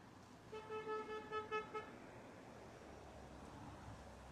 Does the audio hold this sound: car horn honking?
yes